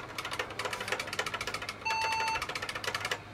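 Computer POST beep during boot, a short steady electronic tone under a busy clatter of rapid rhythmic clicking, with the beep sounding once in the middle of the clip, fairly quiet.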